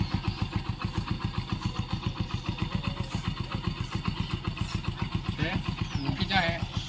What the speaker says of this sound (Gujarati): વગર પ્લગે બાઇક ચાલુ હો મિત્રો